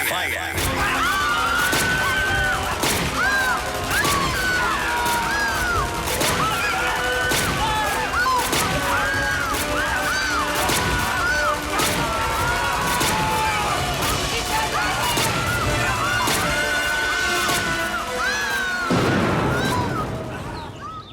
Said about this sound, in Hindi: डायर का ऑर्डर हुआ, फायर!